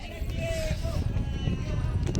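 Horse hooves clip-clop steadily at Mahabaleshwar over a low rumbling background, with a voice speaking over them.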